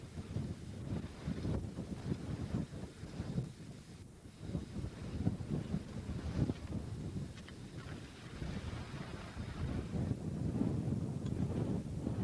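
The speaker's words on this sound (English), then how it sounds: "Nice sunny day, but awful windy." Strong wind buffets the microphone outdoors on a sunny day near volcanic rock and sandstone, a continuous low roaring rush that gusts louder and softer throughout.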